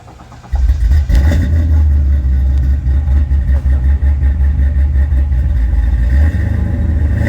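A supercharged car engine starts up and idles loudly and close by, a steady deep rumble with slight fluctuations and a faint high whine riding on top, settling slightly near the end.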